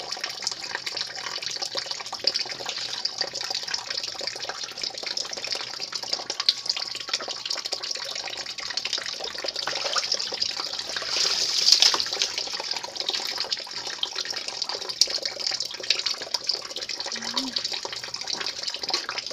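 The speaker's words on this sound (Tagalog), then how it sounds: "Wow, maligo sa labas ng bahay." Water splashes and runs steadily through an outdoor bath outside a house. The rushing, hissing water is continuous and moderately loud, with brief surges near the middle and no clear talk.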